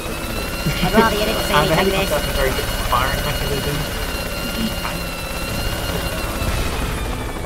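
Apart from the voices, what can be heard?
helicopter in video game Worms W.M.D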